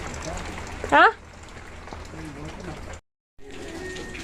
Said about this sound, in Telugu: ఇప్పుడు చూడండి వర్షం చూడండి ఎంత పడుతుందో